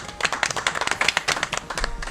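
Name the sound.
audience applause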